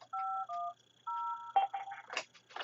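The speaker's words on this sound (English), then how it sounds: "I'm going to dial 55510" Telephone keypad DTMF tones from an IP Office phone setup, a quick sequence of five clean dual-pitch beeps in a near-silent background, the later ones shorter and more closely spaced.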